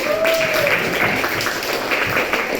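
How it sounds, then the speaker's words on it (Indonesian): Classroom applause from students during an economics lesson, a short burst of mixed clapping in a room that sounds fairly steady and close, with some voices murmuring underneath. "berikan tepuk tangan sekali"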